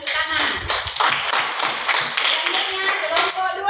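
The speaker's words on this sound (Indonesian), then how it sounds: "Tepuk tangan." In an elementary school classroom, children clap their hands in a quick burst of uneven claps, close and fairly loud, with a voice speaking alongside.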